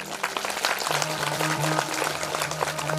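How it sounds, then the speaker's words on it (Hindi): Crowd at a Hindu Shiv Mahapuran religious discourse in a temple claps steadily in a dense patter, with a sustained tonal drone, likely harmonium or chanting, running beneath the applause. "एक बार पुनः एक बार ताली बजाएंगे।"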